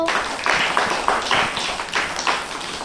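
A group of children claps together, a quick run of many overlapping hand claps in a loose, fast rhythm at moderate loudness, without talk.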